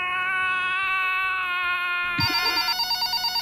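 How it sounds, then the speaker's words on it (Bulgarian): An in-game phone rings at 3 a.m. in a Minecraft video, heard as a loud, steady electronic tone followed by a pulsing, repeated ring pattern, with no talk over it. "Телефона ми звъни."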